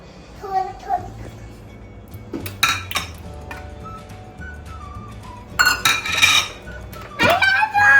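Utensils clink and scrape against a bowl while eggs are beaten in a home kitchen. The clinking comes in short bursts, loudest near the end, and people talk and children chatter around it.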